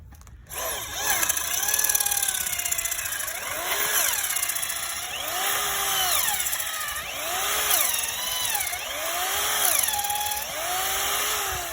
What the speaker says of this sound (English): just drill some holes, go as deep as you can and drill as many as you can